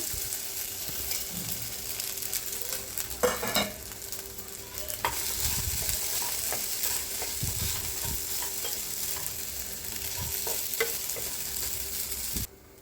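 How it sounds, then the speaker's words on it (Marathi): Sago pearls roasting in ghee in a pan, a steady close sizzle with frequent stirring scrapes and clinks, occasional louder spoon knocks, and a low background hum. "आता ह्याच्यातच तूप टाकायचं आणि तुपात शाबुदाना भाजून घ्यायचा"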